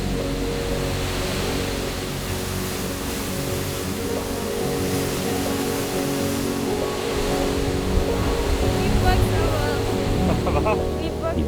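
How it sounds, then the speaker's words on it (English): Seljalandsfoss waterfall in Iceland, a steady, broad rushing roar of falling water that stays constant throughout, with faint voices of people nearby. "beginning with Seljalandsfoss, one of Iceland's most iconic waterfalls"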